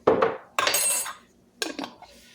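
Metal spoon clinking against a mixing bowl while adding baking powder for banana bread, three sharp close scraping clinks with short pauses between them.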